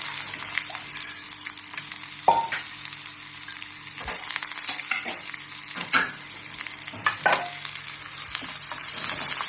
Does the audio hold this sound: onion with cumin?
yes